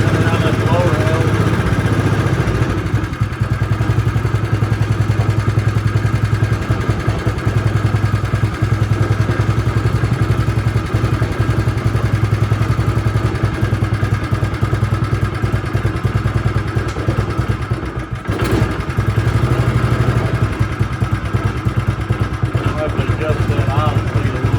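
An old Kohler K181 engine on a Jacobsen three-wheel utility vehicle runs steadily with a rough, continuous idle close to the microphone, while people talk over it throughout.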